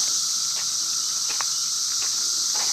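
Cicadas singing in Bristol Station Park, a dense, steady high-pitched drone filling the air, with a few faint soft taps and rustles from a walk underneath.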